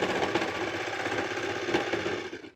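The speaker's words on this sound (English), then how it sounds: "I like this method on the serger because it's cutting off all those frays" A serger stitches and trims layered tulle for a skirt, running at a steady, fast mechanical whir with a dense buzzing rattle, close and continuous, cutting off at the end.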